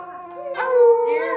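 A puppy howls in a long, wavering, tonal cry that rises in strength midway and holds, close and clear with no talk over it.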